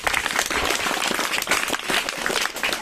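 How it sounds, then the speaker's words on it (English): Students at a school English language club clap in a short, busy burst, the patter dense and fairly close with no voices over it. "Please give a big clap"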